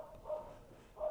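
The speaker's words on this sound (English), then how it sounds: "So that's why the dog's barking" A dog indoors lets out two short muffled barks about a second apart, quiet and slightly distant.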